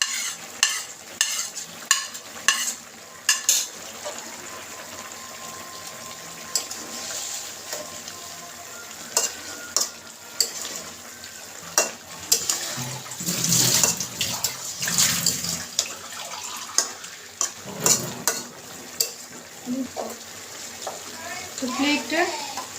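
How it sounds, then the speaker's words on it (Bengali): Fried prawns being added to a raw banana curry and stirred, a low simmering sizzle broken by repeated spatula scrapes and knocks against the pot, with wet bubbling and splashy sounds growing busier midway. "তো এখন আমি এখানে যে মাছগুলো ভেজে রেখেছিলাম, চিংড়ি মাছ, এগুলো দিয়ে দিব"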